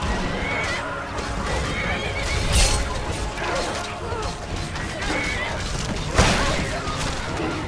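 A horse neighs loudly in the video game Skyrim, with a few whinnies, hoof clatter and sharp impacts over continuous game sounds.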